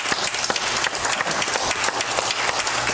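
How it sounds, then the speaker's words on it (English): Church congregation clapping hands during a Sunday service, a dense, even burst of many hands applauding together, fairly loud and sustained with no pause. "Give the Lord a hand clap this morning."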